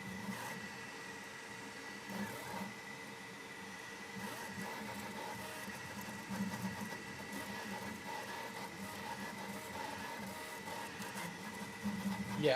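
A Prusa Core One L 3D printer running steadily, with a continuous mechanical whir and faint stepper hum, soft and distant, broken by light patters and small shifts in tone.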